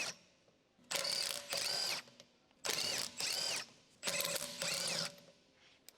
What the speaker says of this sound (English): Use the 19mm deep socket with the electric impact wrench to remove the rear wheel lug nuts.